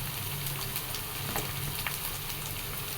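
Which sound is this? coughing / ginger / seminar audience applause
ginger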